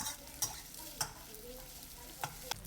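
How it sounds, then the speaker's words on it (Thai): Shrimp, egg and garlic stir-fry in a pan with a continuous sizzle, and a spatula strikes and scrapes it four times at irregular intervals; close and fairly soft, with no speech. "ผัดคลุกเคล้าให้กุ้งพอสุกค่ะ"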